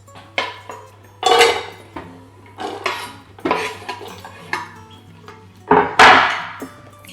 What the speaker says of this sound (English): And then we simply put the chopped onions into the slow cooker,